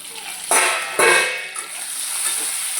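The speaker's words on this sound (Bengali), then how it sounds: "ঢাকা দিয়ে আমি এরকম 5 মিনিট ভালো করে ভেজে নেব" Okra and pumpkin fry in a covered pan with a steady, fairly loud sizzling hiss, broken by a couple of sharper bursts as the food shifts.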